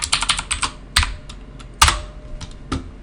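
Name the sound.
typing a password on a computer keyboard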